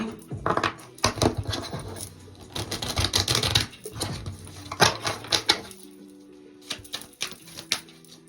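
A deck of tarot cards being shuffled, with bursts of quick riffling and papery slaps in irregular clusters, fairly close and crisp, separated by short pauses.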